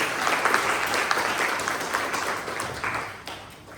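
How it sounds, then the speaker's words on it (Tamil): An audience at a talk on happiness in old age claps warmly to welcome the speaker, a close, lively burst of many hands that stays strong for a few seconds and then slowly tapers. "தயவு செய்து எல்லோரும் கைத்தட்டி அவரை வரவேற்குமாறு கேட்டுக்கொள்கிறேன்"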